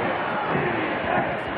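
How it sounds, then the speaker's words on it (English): Auburn fans roar in a packed college football stadium during a 1985 game at Georgia, a dense, steady wall of crowd noise holding throughout with no single voice standing out. "The Auburn cheering section, the Auburn fans seated right behind Georgia right now, might have been instrumental in somebody not hearing the count."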